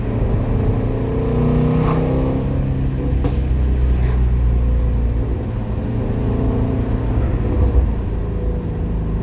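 A 2021 Toyota Supra A91 or a 2018 Shelby GT350 sports car drives along, its engine a close, steady cabin drone with mild swells of revving and no talk.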